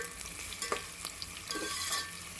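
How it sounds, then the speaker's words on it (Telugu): Onions frying in oil and being stirred for chicken biryani, with a soft continuous sizzle broken by a few light scrapes and clinks of the spoon, quiet and close with no voices. "ఇది ఎర్రగడ్డలు దూరగా కాల్చుకోవాలండి."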